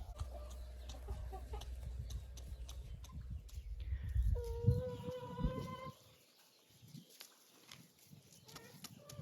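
Roosters cluck and call softly in a greenhouse, a few calls standing out at moderate distance amid low rustling and a rumbling background that drops away partway through.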